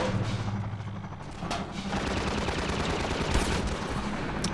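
Rapid bursts of gunfire from the video game Half-Life 2 during a fight against a gunship, dense overlapping shots and booms crackling loudly and continuously across the whole stretch.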